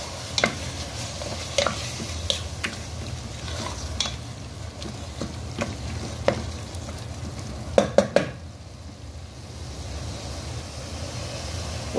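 Rinsed meat for an okra-and-meat tagine frying in a hot pan while it is stirred: a steady, close broadband sizzle punctuated by sharp scraping clicks of the spoon, with a brief lull near the end.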